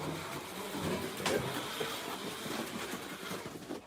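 A Camaro slot car fitted with a level 42 magnet whirs continuously around the track, a steady buzzing motor whine at moderate distance with small clicks as it passes.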